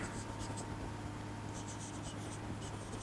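Chalk or pen writing on a board during a physics lesson on electrostatics, faint scratchy strokes in short bursts over a quiet room hum.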